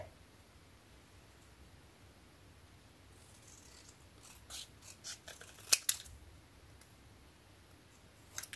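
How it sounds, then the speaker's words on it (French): Scissors cutting a paper napkin for a handmade spring card, a quiet run of crisp snips and clicks clustered near the end, close to the microphone in an otherwise calm room. "Et là, on va couper en laissant un tout petit matage."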